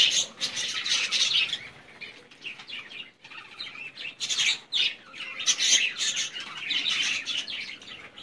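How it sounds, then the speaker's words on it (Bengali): Pet birds, including lovebirds, chirp and squawk in bursts as they come to eat soft food with corn, with shrill calls near and lively, separated by short quieter gaps and occasional wing flutters. "দেওয়ার সাথে সাথে পাখিরা খেতেও চলে এসছে"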